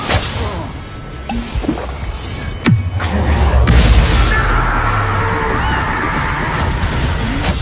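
A Confringo blast spell erupts in the Hogwarts Legacy video game during a final battle, with a sharp crack, a heavy booming impact and a rumbling wash of energy that lingers loud through the rest.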